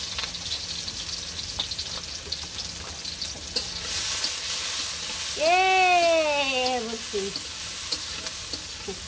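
Green chillies and onion frying in oil in a village kitchen, a strong continuous sizzle that swells partway through, with stirring scrapes and a brief wavering voice-like sound over the hiss.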